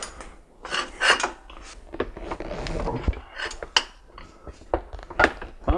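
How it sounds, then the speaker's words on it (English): A 1/2-inch ratchet working loose a bolt on a Honda V6 engine, giving repeated metallic clicks and clanks in irregular bursts close by, no talking. "this time I've got my 1/2-inch ratchet on there"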